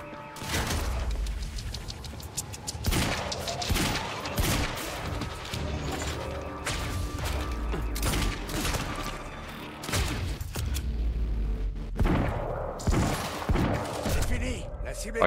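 Assault rifle fire in the video game Quantum Break rattles in dense bursts with booms and crashes, loud and near throughout, while a voice talks over the shooting.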